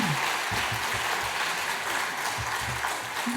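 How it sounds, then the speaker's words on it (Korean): A church congregation applauds during a Sunday worship service, a dense, steady wash of clapping from many hands that carries on evenly throughout. "우리 함께 축복의 박수 부탁합니다"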